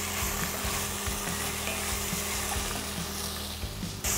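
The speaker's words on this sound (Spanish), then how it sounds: "Y vamos a dejar sofreír esto por 5 minutos." Roasted, peeled and seeded poblano chiles fry in a pan with a constant close sizzle and occasional soft stirring scrapes underneath. No one speaks, and the sound stays even until a brief dip near the end.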